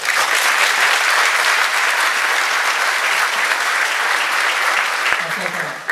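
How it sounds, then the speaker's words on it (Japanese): Sustained applause from a large audience at a city-planning civic forum keynote in Japan, dense and steady throughout, with a lone voice surfacing near the end as the clapping tapers. "今一度、安田様に拍手をお願いいたします"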